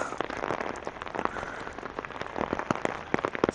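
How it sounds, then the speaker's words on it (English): Steady rain patters down and drips heavily off trees along an outdoor walk in Regina, a dense, close wash of drops with sharper individual splats throughout. "A lot of that, I think, is coming off the trees."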